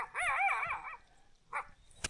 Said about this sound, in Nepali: भित्र त कस्तो कुकुर छ क्या हो